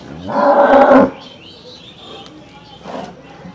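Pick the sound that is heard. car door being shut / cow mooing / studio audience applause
cow mooing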